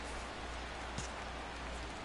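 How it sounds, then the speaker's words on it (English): Rain falling in the baseball video game MLB The Show 16, a steady hiss of fine raindrops that holds evenly throughout without a break. "when there is rain, the rain does vary through the game. Sometimes it comes down a little heavier"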